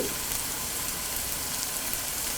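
Onions and chopped ginger fry in a pan for a Kerala duck peralan, giving a steady close sizzle that fills the whole stretch without pause or talk.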